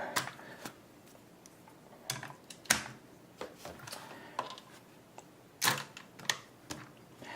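Faint, sparse plastic clicks and snaps come one after another as small parts of a toy robot are moved and folded into place.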